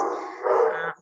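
A dog gives a single short, close bark-like yelp lasting about a second during an online meeting, with no speech over it.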